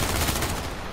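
Dense, continuous gunfire in the video game H1Z1, a loud, rapid burst of shots filling the whole moment without pause.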